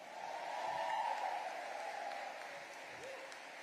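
Faint applause from a congregation at a Christian church gathering, a soft, steady patter of clapping that swells slightly near the start and then holds at a low, distant level.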